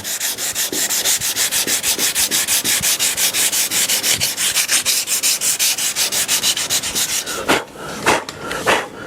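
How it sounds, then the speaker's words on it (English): Steady, rhythmic rasping of sandpaper on a hard rubber block rubbed back and forth over epoxy on a 1960s rosewood table, close and continuous, pausing briefly near the end. "we're gonna use a hard rubber block and a little bit of sandpaper"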